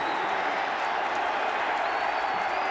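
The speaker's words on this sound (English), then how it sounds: "Crowd rising to its feet here in Death Valley" A packed stadium crowd at Clemson's Death Valley roars during a 1995 college football game against UNC, a dense, steady wash of cheering and applause without breaks.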